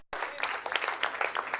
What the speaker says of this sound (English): give the guests a round of applause?